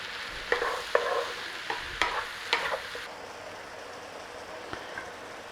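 Beef slices sizzle steadily in a pan for stroganoff, with a handful of sharp scraping clicks from stirring in the first three seconds, then the frying hiss continues alone at moderate level.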